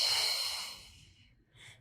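A long audible exhale through the mouth during a Pilates workout, airy and close, fading over about a second, followed by a brief softer breath.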